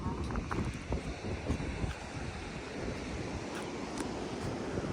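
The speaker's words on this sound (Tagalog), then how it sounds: "Ang lakas talaga alon dito." Heavy surf crashing continuously at the Currimao rock formation in Ilocos under gusting wind buffeting the microphone, a dense steady roar with no talk.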